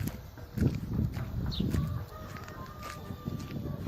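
Chickens cluck and mutter softly in the background, with scattered bird calls over a low, rumbling farmyard ambience.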